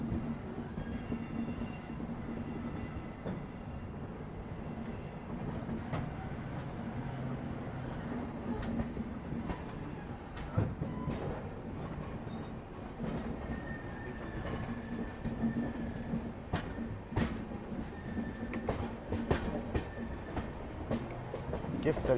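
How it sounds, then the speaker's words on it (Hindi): Onboard the Kongu Express as it rolls slowly toward Kacheguda station in Hyderabad, a continuous rumbling rail drone carries faint clacks and occasional squeals from the wheels. "धीमे धीमे करके हम लोग कचीगुड़ा स्टेशन की ओर बढ़ रहे हैं।"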